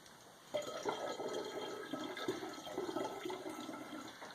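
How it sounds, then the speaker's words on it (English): Vitamin water poured from freshly opened bottles into a vessel of melted honey while making mead, a steady close-up liquid gurgle and splash running for about four seconds after a short quiet start. "So let's go ahead and add our vitamin water to it."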